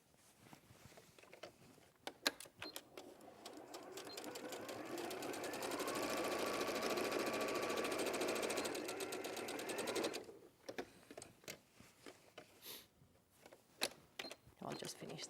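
A sewing machine runs in one steady, fast burst of stitching along a bag panel, loud and close, for several seconds. Quieter handling noises come before and after it, and voices talk around the machine.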